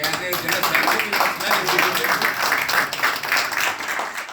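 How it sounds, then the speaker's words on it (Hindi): A hall full of people bursts into sustained applause after nine elected office-bearers of an association are announced, dense, even clapping heard throughout at a steady loud level. "जैसे ही 9 मुंतखब ओहदेदारों के नामों का ऐलान किया गया तो हॉल तालियों से गूंज उठा"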